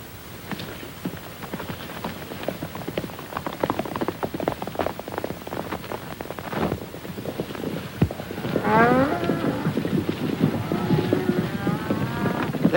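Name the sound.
cattle mooing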